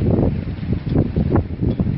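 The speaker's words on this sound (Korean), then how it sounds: "바람이 아주 매섭게 불고 있습니다." Strong wind buffets a rainy car-camping site with a tarp set up, producing a loud, low, gusting rumble that swells and eases in uneven pulses close to the microphone.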